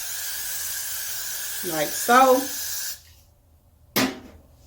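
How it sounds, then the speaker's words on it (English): Hairspray hisses from a can onto a styled hair swoop in a steady spray lasting a few seconds, with a voice speaking briefly over the end of it, then a short final burst. "And then I'm going to spray some more on it"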